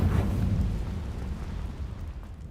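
Confringo fire spell blast in the video game Hogwarts Legacy, a deep rumbling explosion that booms loudly at the start and then rolls off into a long low decay.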